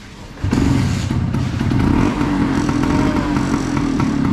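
A motorcycle engine starts with a thump and settles into a loud, steady, close idle with a rough, throbbing tone; no one speaks.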